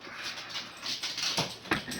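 A puppy whimpers and whines in short, high, nasal bursts close by, with a few rising yips near the end and no talking.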